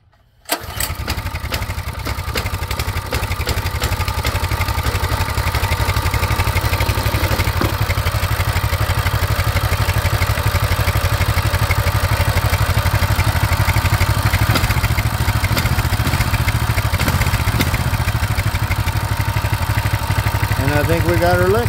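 A Coleman BT200X mini-bike's small engine, just fixed for a fuel leak, is pull-started and quickly catches, then runs in a loud, steady buzzing idle close by for about twenty seconds.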